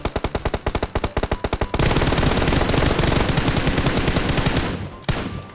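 Automatic rifle fire sprayed at an enemy in PUBG, opening with a rapid even string of sharp close shots that blurs into a continuous dense burst, then cuts off with one final report.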